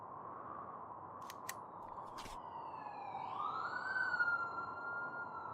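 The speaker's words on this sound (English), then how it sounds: "Oh, off we go. The sirens are ringing." A video game police siren wails at a distance, rising and sweeping in pitch over a constant low rumble of wind or engine noise.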